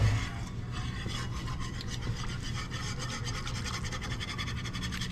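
Flour gravy being stirred steadily in a pan on the stove, giving a continuous rasping, scraping rub of the utensil against the pan bottom, close and even throughout with no talking.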